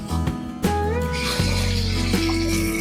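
A cat meows close by in a kitchen where chicken is being cooked, giving a few drawn-out, tonal cries over a steady background hum.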